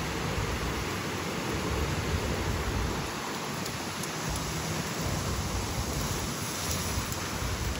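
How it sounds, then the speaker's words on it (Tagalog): Steady, loud roaring wind from Typhoon Kong-rey in Taiwan fills the whole stretch, a broad constant rush with gusty swells and no voices. "Talaga naman kasi napakalakas ng hangin."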